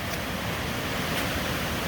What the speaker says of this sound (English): you can see that the creek is raging